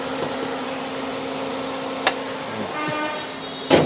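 A Toyota Vios with its original, never-opened engine idles at close range, a steady, even hum with a few light clicks and one sharp knock near the end.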